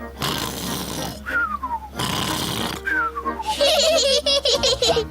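A cartoon pig character in Peppa Pig does a loud, exaggerated snoring imitation with his voice, two long rasping snores each followed by a rising-then-falling whistle, then a burst of giggly, whistling cartoon sounds at the end.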